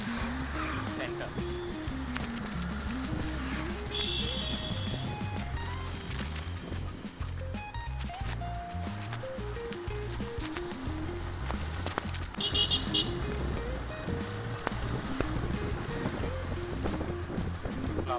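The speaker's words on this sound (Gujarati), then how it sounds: "આપણે નીકળી ગયા એક્ટિવા લઈને સેન્ટર પરથી." A scooter ride on an Activa, with steady engine hum and road and wind rush throughout while people talk over it.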